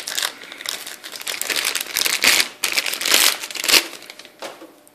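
A knife slices and tears through the crinkly plastic packaging of a Logitech F540 wireless stereo headset, with bursts of crunching and crumpling up close over a few seconds.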